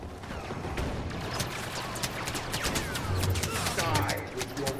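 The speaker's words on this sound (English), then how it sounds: "Are they shooting me already?" Rapid blaster fire in a Star Wars Battlefront video game, a steady dense volley of sharp zaps and bursts running the whole time, with clusters of quick shots layered over a busy battle din.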